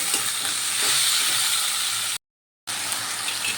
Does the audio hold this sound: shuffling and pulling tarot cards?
no